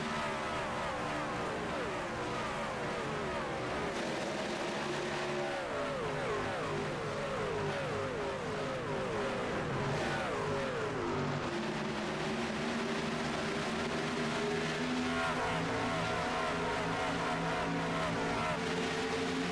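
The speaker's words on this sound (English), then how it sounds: "Really clean start as the field works their way into turn 3 finally as all the trucks get up to speed" Race trucks roar off the start in an iRacing truck series playoff race at Charlotte Motor Speedway in Concord, North Carolina: a dense, continuous layered engine drone with rising and falling pitch as the field accelerates.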